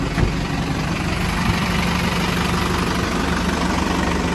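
A tractor engine idles steadily in a sunflower field with a low, continuous rumble, loud and close, with no voices.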